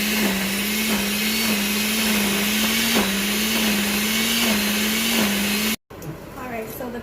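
Kitchen blender pureeing boiled chile peppers and tomatoes for chicken tamales, a loud steady whirring motor running close for several seconds before cutting off abruptly, followed by quieter kitchen noise.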